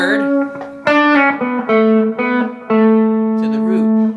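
Electric guitar playing a short melodic solo phrase of sustained, distorted notes with effects, moving through several pitches and settling on a held final root note, loud and close with no talking.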